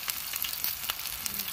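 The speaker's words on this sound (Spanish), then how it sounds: "Como hace burbujita, miren." Hot oil bubbles and sizzles steadily on a cooking disc, a close, continuous crackle with small pops throughout.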